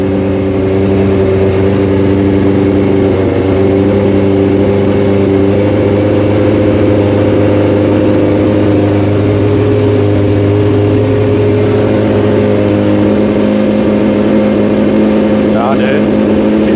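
A 2003 Honda CBR F4i motorcycle engine idles and warms up after a rebuild, a steady close-up rumble that carries on through the clip while people talk over it.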